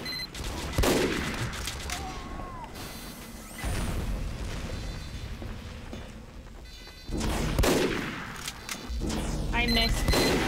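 Gunfire and explosions in a Team Fortress 2 match, with repeated sharp shots and booming blasts in bursts over a busy game soundscape while a person talks.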